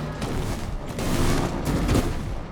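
A timed detonation goes off in the video game Split Fiction, a short cluster of booming, crackling blasts that swell and fade within a couple of seconds.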